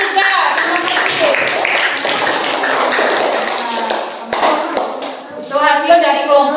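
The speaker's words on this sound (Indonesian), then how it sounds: "tepuk tangan untuk kelompok 3" Classroom applause for group 3 from primary school pupils, a burst of fairly close hand clapping that mixes with voices and fades, followed by children's chatter at the end.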